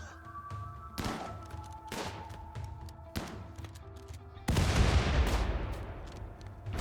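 Gunfire and combat in the video game Rimworld, with a pump shotgun in use: several heavy thumping shots spaced a second or so apart, then a louder, denser burst of blasts.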